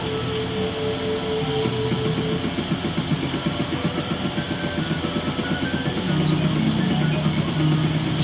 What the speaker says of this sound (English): Oh, got a train going right into the building.